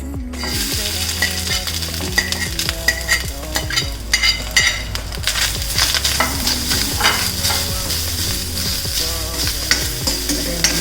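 Grated coconut fries in a little ghee for a sweet snack filling, a steady close sizzle broken by frequent scraping stirs of a spoon against the pan, with no talking.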